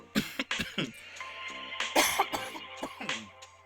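Several coughs and throat-clearing bursts come in a quick irregular cluster, close and fairly loud against a low steady hum of a podcast recording setup.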